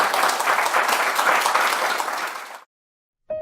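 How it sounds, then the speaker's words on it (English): Warm applause from a conference audience, a thick continuous clapping that tapers off and cuts to silence after about two and a half seconds, then a brief new sound starts right at the end. "let's have a huge round of applause."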